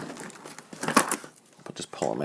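Paper packaging ties are pulled off a Japanese Star Wars Vader car carrier toy box with sharp crinkling and tearing bursts, close and uneven, while someone talks between them.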